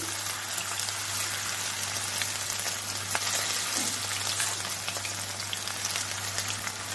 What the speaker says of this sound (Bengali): চলুন এখন একটা একটা করে চিকেনগুলোকে ফ্রাই করে নিই।